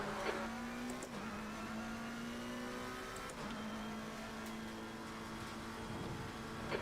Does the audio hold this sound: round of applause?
no